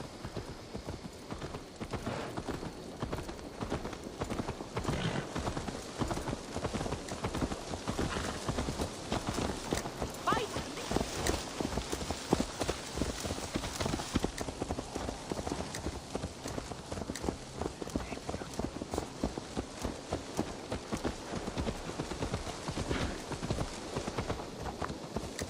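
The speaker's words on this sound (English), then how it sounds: "Let's return the horse." Horse hooves in Assassin's Creed Valhalla clip-clop in a fast, steady rhythm for the whole stretch, close and continuous over a dense game soundscape.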